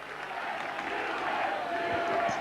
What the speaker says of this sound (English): And you can hear what the crowd think of that.